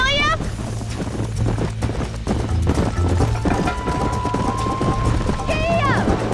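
Horse hooves clip-clopping at a gallop in the Red Dead Redemption video game, steady rhythmic beats under game music, with a horse whinny near the start and end.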